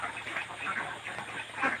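Ducks on a duck farm keep up a steady chorus of overlapping quacks, mid-distance and fairly loud, running continuously from start to end.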